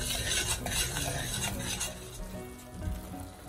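Butter and brown sugar bubbling in a pan for a barbecue sauce, a continuous close sizzling hiss with faint stirring scrapes and no talk.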